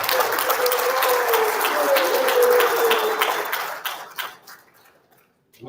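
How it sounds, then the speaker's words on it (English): Audience applause fills a Scrabble championship hall, dense and loud for about four seconds before thinning into a few scattered claps and then fading out. "Shall we do a big round of applause for him?"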